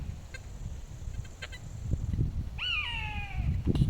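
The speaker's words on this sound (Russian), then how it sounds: "Птичка какая, вон она орет." A bird perched in a forest gives one loud, harsh, downward-sliding cry over a faint outdoor background with soft rustling.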